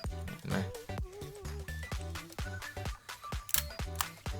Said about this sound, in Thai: ถ้าไม่ต้องการใช้แล้วให้ขึ้นชัตเตอร์ ตัวกลไกจะล็อกของมันเองนะครับ